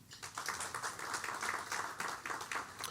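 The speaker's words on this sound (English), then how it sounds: "yeah, you can clap" Scattered audience clapping for local councillors at a business forum, a modest patter of hand claps spread across the room at moderate, fairly even loudness.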